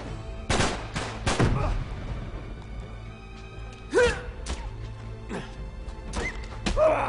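Loud shotgun blasts from a pump-action shotgun in the video game Uncharted 3, set in a London metro: several sharp, heavy reports with short gaps, with game ambience between shots.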